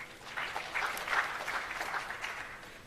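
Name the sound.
audience applause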